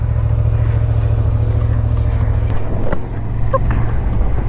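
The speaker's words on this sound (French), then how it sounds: "Peut-être que j'allume la moto, non?" A motorcycle engine runs at a steady, deep idle close to the microphone, a constant low rumble with a few small clicks and knocks near the end.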